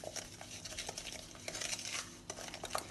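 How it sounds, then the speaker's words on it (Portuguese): Three eggs and a cup of sugar are beaten by hand in a bowl for a quick cake, producing a steady close, quiet scraping and tapping whisking patter with no talking. "Para iniciar nossa receita, eu tenho aqui 3 ovos, um copo americano de açúcar ou 200 gramas. Vamos bater aqui."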